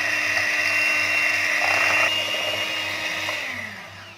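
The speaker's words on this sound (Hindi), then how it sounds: "हमने इसे स्लो स्पीड पे तकरीबन 10 मिनट तक हमने इसे अच्छी तरह बीट करना है" An electric mixer beats cream at slow speed for homemade strawberry ice cream, a steady close whine with a constant motor hum that eases off slightly near the end, with no talking.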